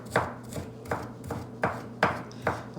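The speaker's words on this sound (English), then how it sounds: "So just cut that up, finely chop it, put it in a bowl." Onion being finely chopped with a knife on a board, about seven sharp close knocks in an even, steady rhythm, no talking.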